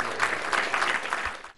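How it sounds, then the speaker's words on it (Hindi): Loud audience clapping at a spiritual talk, a brief burst of dense, rhythmic applause that fades out toward the end. "जोरदार ताली।"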